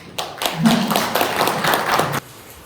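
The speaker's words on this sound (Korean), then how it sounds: "정희석 연극배우 공연하시는데 여러분 박수로 맞아주시기 바랍니다." Short burst of audience clapping welcoming a stage actor at a poetry day event, a dense patter of many hands for about two seconds before stopping abruptly.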